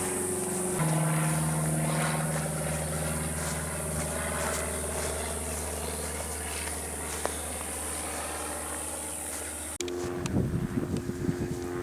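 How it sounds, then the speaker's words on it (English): A small propeller plane drones overhead, steady and fairly close, its engine hum sustained, then shifting abruptly near the end amid outdoor noise in Shamrock Park, Venice, Florida. "There's a lot of little planes that fly around. Got one going over me now."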